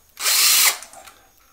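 A power drill drives a screw through a stair tread into the riser, one short high whirring burst that stops abruptly and leaves a faint tail.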